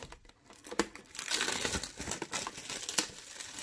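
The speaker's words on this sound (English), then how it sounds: "I'm going to open this box" A box of 2020 Immaculate baseball cards being opened: close, continuous crinkling and crumpling of wrapping with a few sharp tearing bursts, no voices.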